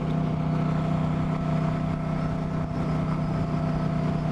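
Steady, continuous drone of a Moto Guzzi-style V9 Bobber motorcycle engine while riding, constant and loud with wind rush blended in, no talking.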